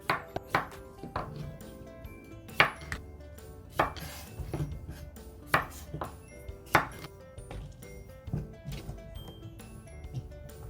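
A knife cuts the ends off cucumbers for Korean oiji pickles, a series of sharp, distinct chops on a board at an irregular pace, close up and fairly quiet, with no talking.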